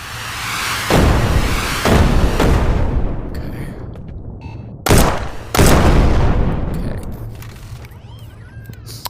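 Rockets fire and explode in the VR shooter Shotwood, several loud, broad whooshing blasts that each roar for about a second before fading, with mechanical hum and a low drone underneath.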